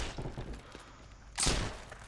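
A small gun fires in Heroes and Generals, a sharp cracking report near the end following quieter muffled thumps and rumble from the battlefield, with no talking.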